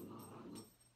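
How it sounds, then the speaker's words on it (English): A pet dog growls low and rumbling at close range for about a second, the sound fading out toward the end, with no talking over it. "my dog's growling"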